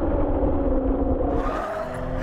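A Toyota Supra with big Brembo brakes stopping hard, tonal tire squeal over engine and road noise for about two seconds, loud and close, easing off toward the end.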